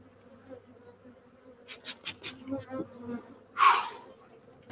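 Honey bees buzz around an opened hive during a honey harvest, a steady drone of many insects with a louder close pass near the end and brief clatter of hive parts.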